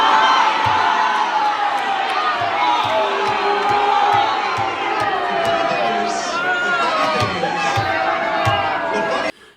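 A large political crowd cheers continuously, a loud, dense roar of voices, whoops and shouts sustained with no letup before cutting off abruptly at the end.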